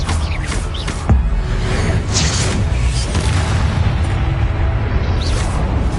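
Confringo blasting spell explosions in the video game Hogwarts Legacy, loud booming bursts with whooshing swishes over a dense, continuous rumble of combat.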